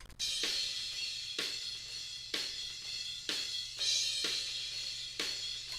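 Harsh, splashy cymbal crashes boosted around 3 kHz repeat roughly every second, with a piercing upper-mid edge and long hissing decays, played alone.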